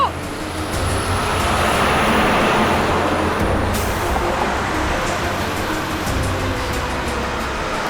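Steady broadband road rumble of a car driving along a street, loud and continuous throughout, with a brief high tone near the start and talk-like energy mixed in.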